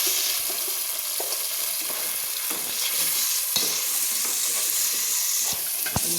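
Chopped onions for paneer masala fry in a hot pan, giving a continuous bright sizzle punctuated by occasional sharp spoon knocks and stirring clicks.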